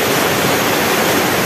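A waterfall at Sertão do Cacau in Camburi, São Sebastião, pours as a loud, continuous broadband rush close by, alone.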